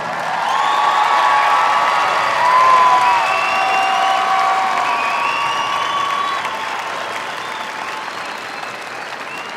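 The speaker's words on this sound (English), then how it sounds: "Please give them a round of applause." A large audience applauds steadily at a high school graduation ceremony for the class of 2022, a dense sustained wash of clapping with light cheering that swells briefly and then eases slightly toward the end.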